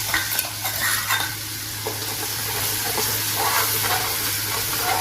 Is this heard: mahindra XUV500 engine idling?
no